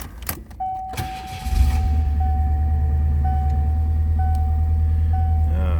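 A 1988 Ford Thunderbird Turbo Coupe is started: a brief crank and engine catch, then a steady low idle rumble holding close and loud, with a faint repeating chime above it.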